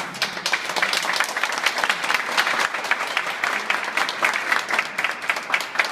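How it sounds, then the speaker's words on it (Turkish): Steady applause from a crowd at an iftar meal, dense continuous clapping at even loudness throughout, with no pauses. "Bir alkış da size alalım"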